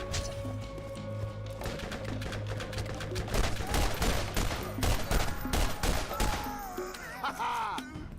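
Rapid gunfire from the shooter game Borderlands crackles in dense bursts of shots, loud and continuous for several seconds, with a thudding low layer underneath.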